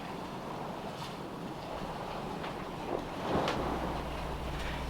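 Sailboat at sea during a tack in a race, with steady wind rush and wash of waves against the hull throughout, plus a brief swell of louder water and wind noise midway.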